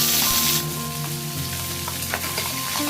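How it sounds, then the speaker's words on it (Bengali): Small bata fish frying in a pan of hot oil give a loud, steady sizzle and crackle, with occasional faint stirring clinks, close up and without any talk. "তো বাটা মাছগুলোকে ভালো করে ভেজে নিচ্ছি।"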